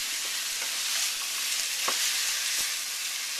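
Cantonese chow mein ingredients sizzle loudly in a pan after soy sauce and cooking wine, a constant close hiss broken by a few sharp clicks of stirring.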